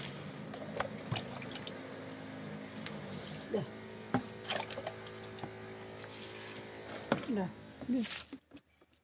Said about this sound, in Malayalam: ഒഴിച്ച് കൊടുക്കട്ടെ